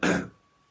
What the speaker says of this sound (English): Excuse me if I cough.